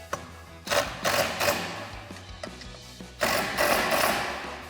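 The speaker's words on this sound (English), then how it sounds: "we'll grab our 6mm Allen socket and tighten these down" A 6mm Allen socket driving bolts tight on a bed rack mounted on a Ford F-250, heard as several close bursts of ratcheting clicks separated by brief pauses.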